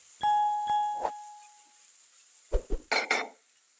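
A metal pot holding onions and peppers is shaken and knocked, giving a few ringing clanks at the start, then quieter rattling bumps a moment later.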